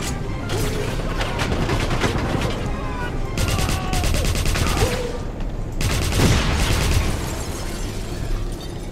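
Grenades and gunfire in the Wolfenstein shooter game: dense, loud bursts of explosions and rapid shots crowd together, with sharp booms breaking through a constant battle roar.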